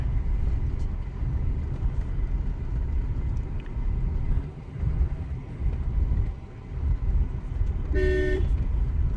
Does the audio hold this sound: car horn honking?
yes